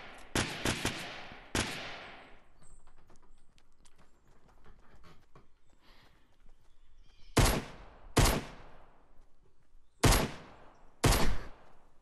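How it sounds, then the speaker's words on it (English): Bursts of gunfire in Fortnite crack out loud and close in tight clusters, with quieter shuffling and faint clicks between the volleys. "We're probably shooting at someone"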